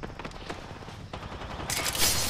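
Gunfire in the Apex Legends video game rattles off in a rapid, continuous burst of close, dense shots that swells louder and brighter toward the end.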